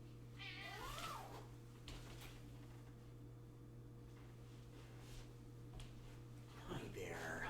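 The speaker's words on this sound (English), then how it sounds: "Hopefully if he's hugged, then he will stop meowing." A pet cat named Han meows a few times, with short calls near the start and end, over a steady electronic hum, with soft talking in between.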